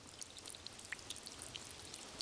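Heavy rain comes through as a faint, continuous patter of drops and splashes, steady and soft with scattered brighter ticks and no voices.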